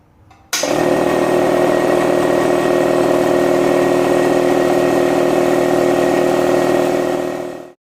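A Harbor Freight 29-gallon air compressor switches on abruptly after a quiet moment, then runs with a loud, steady motor drone and hum before cutting off at the end.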